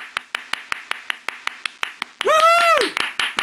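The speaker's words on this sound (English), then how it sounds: "So, can we get some applause for them?" A few sparse, evenly spaced hand claps ring out alone in a quiet room during a VR talk show, then a voice breaks in with a sung, whooping cheer while the clapping continues faintly.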